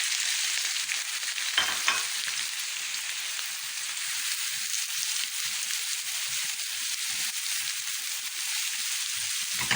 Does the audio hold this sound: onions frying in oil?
yes